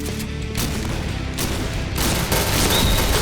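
Gunfire in the online shooter Point Blank, with dense continuous bursts of shots and a few sharper cracks over loud game noise, steady and close, no talking.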